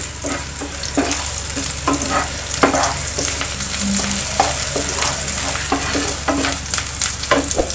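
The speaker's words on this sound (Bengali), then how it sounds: "আমি 2 টেবিল চামচ পরিমাণ রসুন সাদা তেল দিয়ে দিলাম।" Garlic frying in white oil for a Chinese-style vegetable dish sizzles steadily up close, broken by regular scraping strokes of stirring; no voices.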